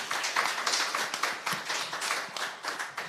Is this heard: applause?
yes